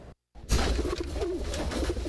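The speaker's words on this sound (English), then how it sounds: "Three pretty pigeons all in a row, resting from a long trip they took more than a week ago." Racing pigeons cooing, a soft continuous warbling coo close by after a brief silent gap, with no talking over it.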